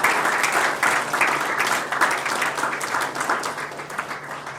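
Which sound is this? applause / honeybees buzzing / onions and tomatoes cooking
applause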